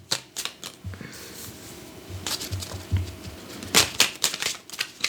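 Tarot cards being shuffled close up, a soft papery riffling and patter in irregular bursts, quiet and alone with no talk.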